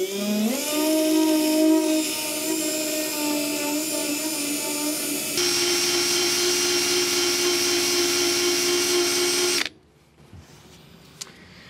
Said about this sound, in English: I'm gonna get the eraser wheel and just kind of blast off this gunk.